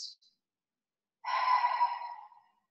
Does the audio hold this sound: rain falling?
no